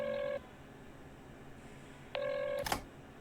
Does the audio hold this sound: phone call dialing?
yes